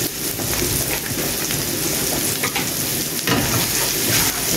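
Curry cabbage with red pepper flakes sizzles loudly in a pan and is tossed. The steady, dense frying hiss is broken by brief stirring scrapes, heard up close with no talking.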